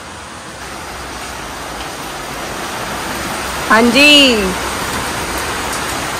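Steady hiss of heavy rain falling continuously around a bungalow, with a brief voice speaking over it midway.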